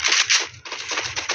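Gunfire from a mobile battle royale video game rings out in quick close bursts of sharp shots, briefly pausing before a further rapid volley.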